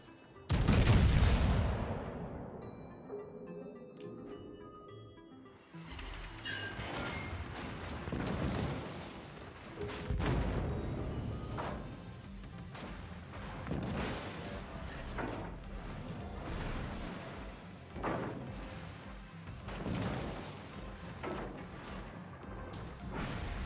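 Heavy naval guns of the Tier IX German premium cruiser Siegfried fire at a Tirpitz battleship in World of Warships, a loud booming salvo up front followed by repeated rumbling blasts and explosions over a low ambient battle roar.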